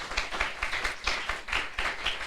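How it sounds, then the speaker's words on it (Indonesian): A church congregation at a Sunday worship service claps in praise to God, about ten moderately quiet, evenly spaced claps in a steady rhythm lasting a couple of seconds. "berikan tepuk tangan buat Tuhan"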